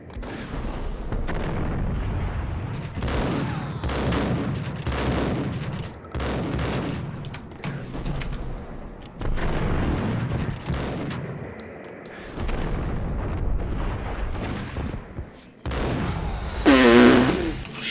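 Loud, repeated shotgun blasts in the Max Payne video game, heavy booming bursts fired in irregular succession across the scene, with a brief high whine near the end.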